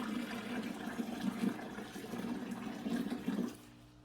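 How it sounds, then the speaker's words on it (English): Water pours steadily into a 20-gallon corner vivarium with a waterfall, a continuous close gurgling splash with small surges that stops abruptly near the end, leaving only a faint hiss. "Gonna add some more water because when I added some water the last time, it did push it up the hose a little bit."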